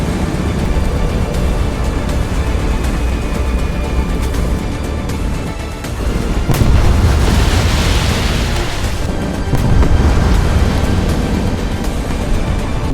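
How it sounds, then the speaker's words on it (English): Deep booming blasts in water from a 5000 kg bomb dropped by a PE-8 in War Thunder, a heavy rumble swelling midway with a bright splashing spray, then another surge, over a constant low roar of game audio. "some pretty cool shockwave explosions in the water"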